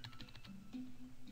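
Fingers tapping number keys on a computer keyboard during a Webkinz game, a quick run of light clicks close by with no talk.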